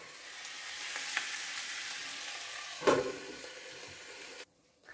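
Sausages, half a kilo, frying in a covered pan give a steady close sizzle throughout, with one brief louder clatter near the middle before the sound drops away at the end.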